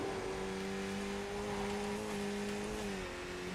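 A race car engine at Imola in the iRacing sim drones steadily at high revs, then dips briefly with a slightly fumbled upshift near the end, with no talking.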